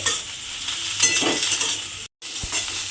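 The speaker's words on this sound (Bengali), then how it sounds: "ঢেঁড়সগুলোও কিন্তু একটু নাড়াচাড়া করে ভাজা ভাজা মতো করে নিতে হবে" Okra frying in a pan while being stirred, a continuous crackling sizzle with scraping and light clinks of a spatula, close by and without voices, with a brief dropout near the end.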